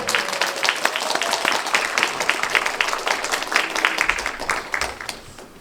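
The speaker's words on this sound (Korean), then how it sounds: "뜨거운 박수 부탁드리겠습니다" A concert audience applauds with dense, continuous clapping that holds steady for several seconds before gradually thinning out at the end.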